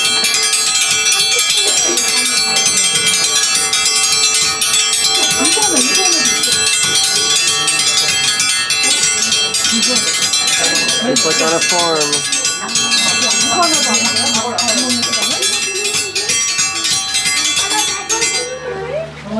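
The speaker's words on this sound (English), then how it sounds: "what I'm going to do is ring this triangle right here to let them know that it is feeding time." A triangle rung as a dinner bell at feeding time for monkeys at a Miami jungle attraction clangs in bright, sustained metallic strikes over a busy background, with voices and someone talking throughout.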